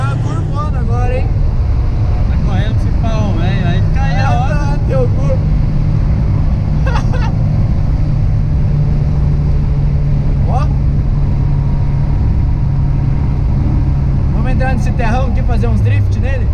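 A small car driven fast on asphalt through hard cornering and drifts, its engine drone and road noise loud and steady throughout, with two people talking excitedly over it.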